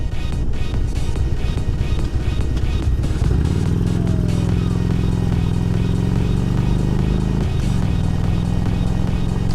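A motorcycle starts out with loud close clattering idle, then pulls away with engine revs rising steadily, a gear change near the end, strong and continuous without speech.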